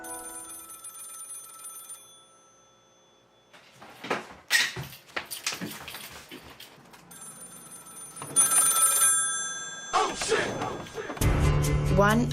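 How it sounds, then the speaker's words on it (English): An old telephone bell rings in the distance in an Amish setting, with clattering and knocks of doors or cupboards as someone hurries, rising to louder bursts of ringing near the end. "they hear ringing in the distance"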